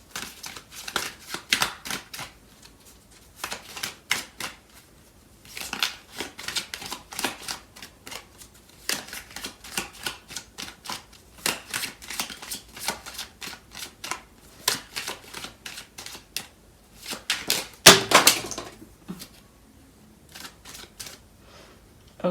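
A tarot card deck is shuffled close up in repeated bursts of quick riffling and flicking card sounds separated by short pauses, with one sharper clack near the end.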